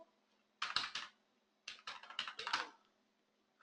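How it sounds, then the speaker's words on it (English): Command typed on a computer keyboard in a terminal, two quick close bursts of light key clicks separated by a short pause, quiet and alone. "For that, I'll type puppet module"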